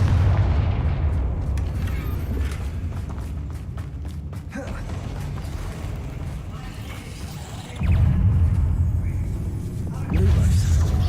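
A Confringo fire spell blasts in the Hogwarts Legacy video game, heavy booming impacts and rumbling explosions over continuous game sound, with a fresh loud burst near the end.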